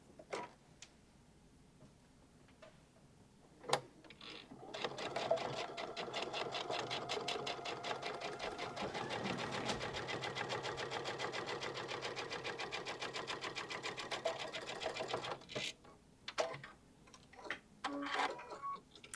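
A sewing machine runs steadily for about ten seconds, stitching a half-inch seam on a messenger bag at a 2.5 stitch length. Its rapid, even needle clatter is close and loud, with brief handling noises before and after.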